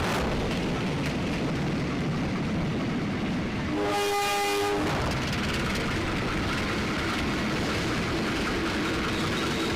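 A passenger test train on the Padalarang-Cianjur-Sukabumi line in West Java rolls past with a loud, steady rumble, and its horn sounds one sustained blast of about a second midway through.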